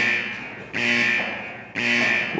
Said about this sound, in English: Safety zone alarm. One of us is contaminated.